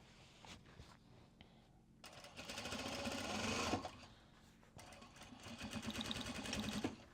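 A sewing machine stitches fabric in two bursts of rapid mechanical chatter, a softer start and then louder, sustained runs, with a short pause between them.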